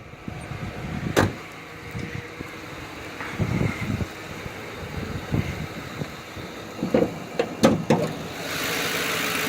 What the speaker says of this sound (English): And here we go, the engine.